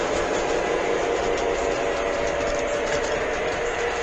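A heavy model train with die-cast trucks and components rumbles steadily along its track, a continuous whirring, rattling hum at close range with no break.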